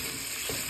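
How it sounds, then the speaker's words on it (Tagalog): Shrimp sizzles in a pan of butter and olive oil with a little chili, a steady close hiss of frying with a faint stir in the middle and no talking. "So guys, i-prito na natin ang shrimp."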